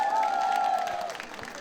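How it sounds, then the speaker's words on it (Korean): Brief applause and light cheering from a festival concert crowd at the Mungyeong Tea Bowl Festival, calling a singer back for an encore, faint and thinning out under a sustained tonal voice or note. "다시 한 번 더 박수로 모시겠습니다."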